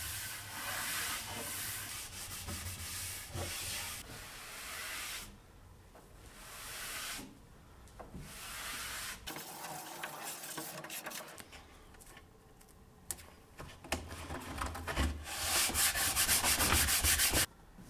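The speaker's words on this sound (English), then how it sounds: "And then I used a tack cloth to clean everything up." A tack cloth wipes over a freshly sanded wooden chest of drawers before gel staining. The rubbing hiss is steady and close, with short pauses between strokes and no talk.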